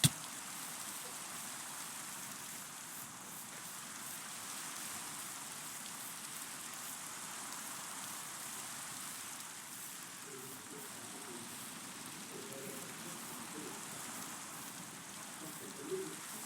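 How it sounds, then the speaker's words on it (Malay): Steady rain hisses and patters throughout in the Minecraft video game, a constant even wash of falling drops with faint talking underneath at times. "Hujan balik. Tadi baru je hujan."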